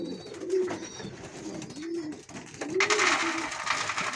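Breeding pigeon pairs coo in a dovecote, several soft, rolling coos repeating at a relaxed pace close by, with light rustling and a brief burst of broadband noise partway through.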